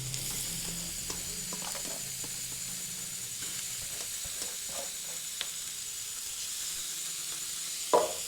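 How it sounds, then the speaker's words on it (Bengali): Mashed paneer and vegetables frying in a pan for momo filling, giving a steady soft sizzle with a few faint clicks of stirring and a brief clatter near the end. "এগুলি কিছুক্ষণ ভাজা হয়ে গেলে এরপর দিয়ে দিচ্ছি এখানে"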